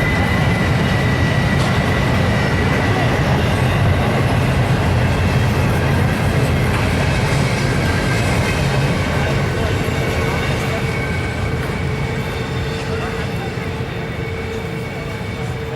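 Norfolk Southern freight train climbing the grade near Horseshoe Curve on the Pittsburgh line, a loud, steady, heavy rumble of engines and rolling cars that fades slightly toward the end.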